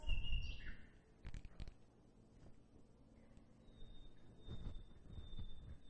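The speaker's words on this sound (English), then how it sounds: "Oh, there's birds. There's birds, you guys." Small birds chirp in short, scattered calls outdoors, faint and somewhat distant, with a thin whistling tone and occasional soft background rumbles between them.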